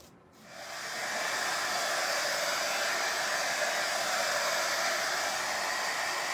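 A hair dryer blows steadily on Fusion Mineral Paint over a decoupage napkin art piece. It starts within the first moment and then runs loud and continuous, with no talking.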